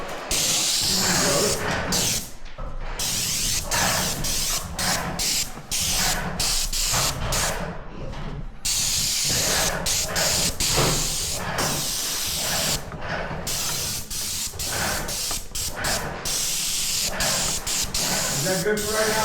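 A paint sprayer hisses in repeated bursts inside a house being painted, bright spray noise broken by short pauses, with people talking in between the passes.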